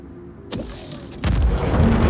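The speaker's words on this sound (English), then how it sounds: "I'm gonna let this torpedo go, and I'm gonna veer off." Torpedo launch from an Aegis Eclipse ship in Star Citizen: a sharp thump, then a deep, rumbling surge of thrust that grows louder and keeps roaring.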